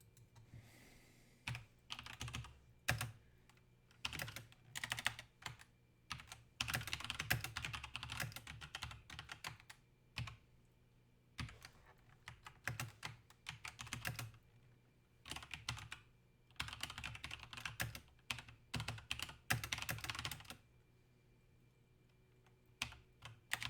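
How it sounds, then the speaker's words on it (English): Bursts of rapid keyboard typing, clicking in uneven runs separated by short pauses, close by and fairly quiet. "Okay, somebody's typing."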